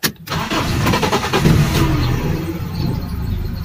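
A car with its check engine light on cranks and catches, then runs at an unsteady idle that sags: a brief starter whine, then a loud, close, rough engine hum that holds for a few seconds with no speech.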